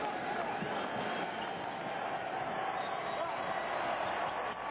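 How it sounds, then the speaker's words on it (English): Basketball crowd at a 2001 playoff game, Pacers versus 76ers, roaring steadily and loudly in a large arena throughout, with a commentator talking over the continuous cheering. "And the crowd cheering the effort"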